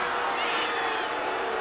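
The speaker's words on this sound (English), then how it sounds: "Crowd not liking it." A soccer crowd at an NCAA women's tournament match between Penn State and Florida State reacts against a foul call, a brief, dense murmur and roar of disapproval throughout.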